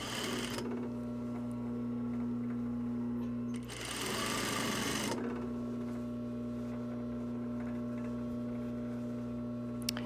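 A sewing machine runs a half-inch seam on a jacket sleeve, making a short burst of fast stitching over a steady mains hum. A quiet room tone fills the rest.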